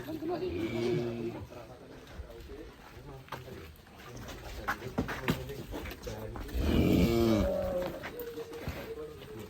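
Large cattle low and moo in a simple barn high on Mount Merbabu in Semarang Regency, with deep drawn-out calls rising over steady barn noise while people talk nearby.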